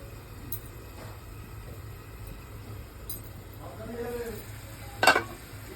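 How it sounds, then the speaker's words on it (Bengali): Tangra fish curry gravy bubbling gently in a covered pan, a soft, steady sizzle low in the background, with a single sharp clink of metal or glass near the end. "একটু ঢাকা দিয়ে দিলাম ঝোলটা ফোটার জন্য"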